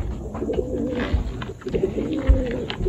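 Pigeons coo close by while being fed, soft repeated low coos overlapping in a steady, murmuring rhythm.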